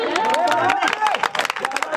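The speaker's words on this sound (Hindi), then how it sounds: "चाहते हुए एक बार आप जोरदार ताली बजाएं।" Audience clapping at a mushaira poetry gathering in Malegaon, with brisk scattered claps and crowd murmur under a voice that keeps talking loudly throughout.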